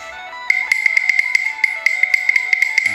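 Close, loud hollow clonks of a wooden cattle bell repeat briskly and steadily, each strike leaving a ringing tone.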